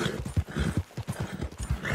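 Hooves of a Tennessee Walker horse in Red Dead Online clop in a brisk, regular rhythm, a steady run of footfalls at moderate distance with no voices.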